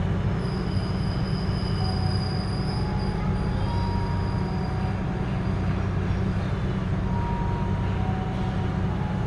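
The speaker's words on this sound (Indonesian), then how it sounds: "itu kereta api Pangandaran yang lewat dari Gambir tujuan Bandung" The Pangandaran passenger train from Gambir to Bandung rolls past in a loud, continuous rumble of wheels on rails, with thin squealing tones riding above the steady roar the whole way through.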